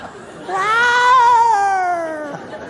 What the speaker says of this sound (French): Il n'y a que des chats dans la rue.